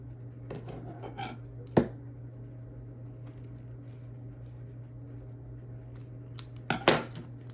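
Scissors trimming fabric for a boho envelope journal, a few quiet snips and sharp clicks spaced apart over a steady low hum, close and faint, with no talking.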